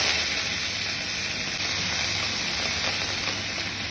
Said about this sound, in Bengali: ফোড়ন দেওয়ার জন্য তেল দিচ্ছি, শুকনো লঙ্কা, এই যে সর্ষে, কারি পাতা